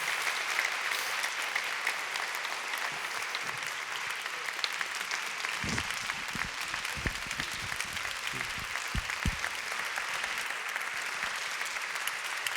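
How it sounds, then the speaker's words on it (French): Sustained audience applause after a lecture on consciousness, a dense even patter of many hands in a hall, with a few sharper nearby claps standing out midway. "Je crois qu'on peut se lever pour l'applaudir"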